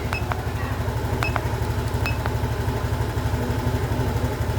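Honda Beat FI fuel-injected scooter engine running steadily at high revs, a continuous close-up drone with a few faint clicks, no talking.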